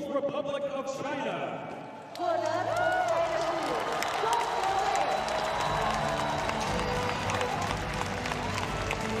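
An arena crowd at the Beijing 2022 Paralympic para ice hockey medal ceremony breaks into sustained applause and cheering for the Chinese team, a broad wash of clapping that swells after a quieter start, with an announcer talking over it.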